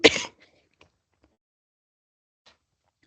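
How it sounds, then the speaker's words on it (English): A single sharp throat clearing sounds close and loud at the start, then fades into near silence with a few faint clicks. "I feel like I'm about to cough"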